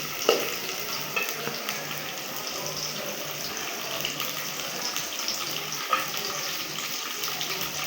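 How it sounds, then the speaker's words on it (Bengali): Onions stirred and frying in a pan over a village cooking fire, a steady broadband sizzle with occasional scraping clinks of the spoon, close and continuous with no talk. "পেঁয়াজটা নেড়ে চেড়ে একটু কালার হালকা ব্রাউন হওয়া পর্যন্ত অপেক্ষা করব"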